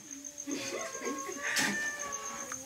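A cat meows several times in a domestic setting, with drawn-out, wavering cries close by over a faint constant tone.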